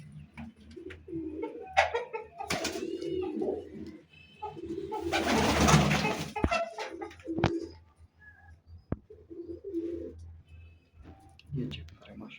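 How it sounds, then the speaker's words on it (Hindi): Pigeons in a breeder's loft coo in short, low rounds, with clicks and flutters mixed in, while someone talks nearby and a loud rustling burst passes in the middle. "बहुत बेहतरीन कबूतर।"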